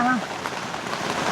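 Rain falling during a storm around a rural hut, a steady dense patter on surfaces throughout, with a short voice-like tone at the start.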